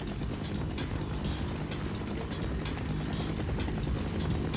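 Combine dropship carrier helicopter from the video game Half-Life, a loud, continuous rotor and engine roar with a steady rumbling drone that holds at one level throughout, close and alone.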